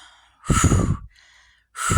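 Two strong, close exhales during a prenatal abs warm-up exercise, each a breathy rush of air with a softer intake between them.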